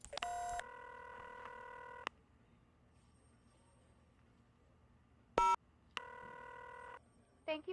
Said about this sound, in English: the key presses are not as loud for you guys as they are for me